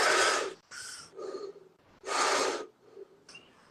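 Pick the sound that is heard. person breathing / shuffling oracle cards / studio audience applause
person breathing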